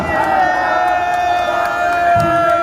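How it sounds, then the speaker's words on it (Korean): A large outdoor crowd at a Liberation Day rally in Gwanghwamun roars its thanks to a speaker, a sustained distant wall of cheering and shouting with a steady drone beneath it. "김경재 촉장님께도 감사의 함성을 보내주시기 바랍니다"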